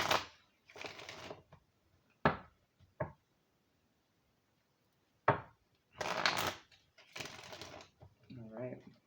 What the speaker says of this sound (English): I'm going to pull from one of her cards from the Isis Oracle as well